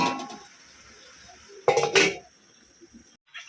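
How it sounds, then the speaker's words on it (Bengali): A lid clanks onto a pot of malabar spinach on a home stove: one loud metallic clatter with a short rattle, between quieter kitchen rustles. "এখন পুঁইশাকটাকে ঢাকা দিয়ে বসিয়ে দিই"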